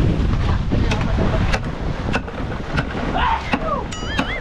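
Gusty wind buffets the microphone out on open sea off Mindanao, a loud continuous roar with a few short whistling chirps near the end.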